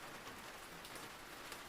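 Steady rain falls softly and evenly as a quiet, continuous hiss with no voices.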